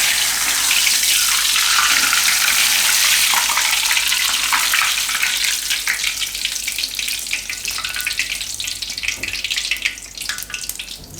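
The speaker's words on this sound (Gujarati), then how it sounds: "બીજો ફુદીનો આપણે એમાં ફ્રાય કરી લેવું।" Mint leaves fry in hot oil, making a loud, dense, continuous sizzle and crackle that eases off slightly toward the end, with no voices.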